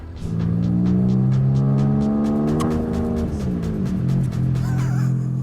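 A tuned Volkswagen Golf R32 of about 1200 horsepower accelerates hard on an airstrip. The engine roars loud and close, its revs climbing steadily, with a gear change partway through before it pulls on again.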